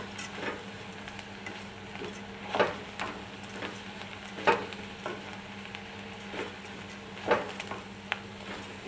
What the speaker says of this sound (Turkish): Bir de bulgurumuzu ekleyeceğiz. Bunları biraz kavuracağım.